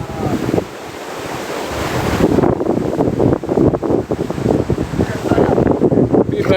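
The Rio Cobre, flooded during a hurricane, rushes loudly in a turbulent churning roar mixed with gusting wind buffeting the microphone, surging and fading unevenly across the scene.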